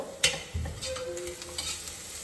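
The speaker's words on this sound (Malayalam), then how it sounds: "കുറച്ച് പെരിഞ്ജീരകം എണ്ണയിലോട്ട് ഇട്ടു" Fennel seeds dropped into hot oil for kappa biryani, giving a soft steady sizzle with a few sharp clinks and scrapes of a spoon against the pan over a couple of seconds.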